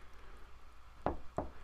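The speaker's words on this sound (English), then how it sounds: "there's a knock at the door" A door in the Steins;Gate 0 video game is knocked on twice, two close, dull thuds in a quiet room.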